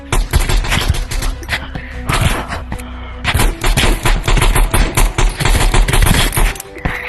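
Gunfire in the shooter game Animal Rivals comes as loud, dense automatic bursts, nearly continuous with short gaps, rattling close and heavy across several seconds.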